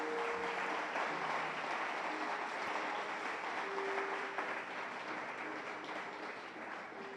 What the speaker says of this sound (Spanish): Dale un fuerte aplauso al Señor en esta hora.